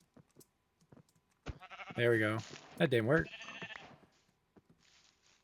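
A short sheep bleat in Minecraft, wavering and nasal, with a person talking over it and light clicking around it.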